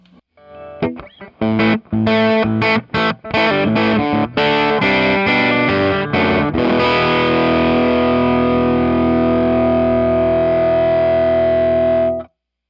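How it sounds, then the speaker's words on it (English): A heavily distorted electric guitar through a cranked Rocknroll Amps Duoplex 2EL84 tube amp plays a burst of choppy, stop-start chords, then rings out into a long sustained overdriven chord before cutting off. "Now you can get distortion out of this by just cranking this."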